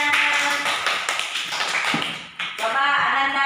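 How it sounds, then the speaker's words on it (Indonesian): Schoolchildren in a classroom clap for a classmate in quick rhythmic bursts, mixed with their own sing-song voices and chanting. "Kasih tepuk tangan temannya"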